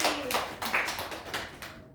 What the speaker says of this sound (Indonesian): Tepuk tangan buat Mbak Rofi.